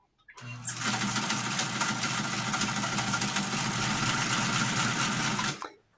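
An Amarko Model 950-B sewing machine whirs into motion, running with a steady, close, rapid mechanical hum for about five seconds before winding down and stopping.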